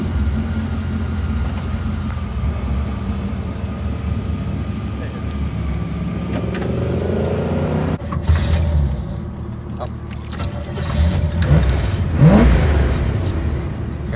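A 1975 Chevrolet Monza with a 350 V8 revs and idles nearby with a rough, rumbling exhaust, then drops into gear with a sudden jolt around the midpoint, and brief rising revs follow near the end.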